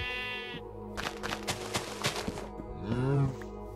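Sheep bleating in the Minecraft video game, a few short game bleats over background game music and ambience, with one louder, drawn-out bleat near the end.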